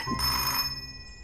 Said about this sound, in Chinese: 电话是找我的